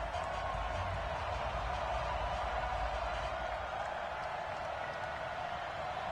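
Stadium crowd in an EA Sports NFL video game, Washington Redskins against Dallas Cowboys, a steady, even roar of cheering and applause that holds at constant level without breaks.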